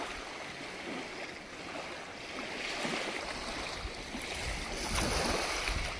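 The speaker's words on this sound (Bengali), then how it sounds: "অপরূপ ঢেউ কিনারে এসে যেমন আছড়ে পড়ছে" Sea waves at Havelock, near the mangrove shoreline, crash onto the shore in a continuous broad wash that swells and recedes, heard alone with no voices.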